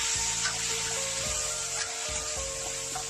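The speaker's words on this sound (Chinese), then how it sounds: "继续煸炒" Spareribs with dried chili stir-fried in a wok, a bright continuous hiss and crackle of hot oil with faint tossing scrapes, set under a soft tonal backdrop.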